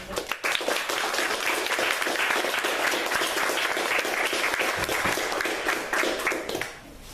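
Sustained applause from a lecture audience welcoming Professor Toby Jones, a dense, even wash of many hands clapping that holds steady for several seconds before tapering off near the end.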